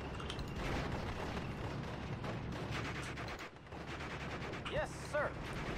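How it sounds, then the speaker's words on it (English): Artillery fire in the WWII strategy game Steel Division: Normandy 44 rumbles through a dense, continuous battle din, with dull blasts and mechanical clatter mixed into the steady wash of combat noise. "Some artillery coming in there."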